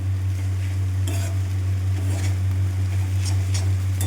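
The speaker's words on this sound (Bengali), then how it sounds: "এরপর আমি এই যে পনিরের টুকরোগুলো ছড়িয়ে দেব ভেজে রাখা।" Veg chowmein with fried paneer pieces sizzles in a pan while being stirred and tossed, soft scraping and frying crackle over a constant low electrical hum, close up and without speech.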